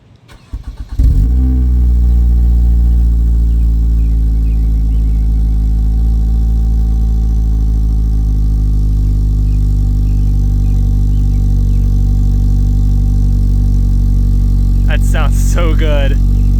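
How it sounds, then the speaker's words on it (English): A car with an aftermarket exhaust starts from cold, catching with a loud burst and then settling into a steady, deep, rumbling idle that runs close and loud, with a brief voice near the end. "we're gonna go ahead and get a cold start of the exhaust finally on this thing and see how it sounds"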